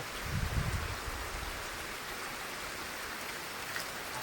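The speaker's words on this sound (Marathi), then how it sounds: "जोरात पाऊस चालू" Soft, continuous hiss of rain falling, fairly distant and even, with a brief low rumble near the start.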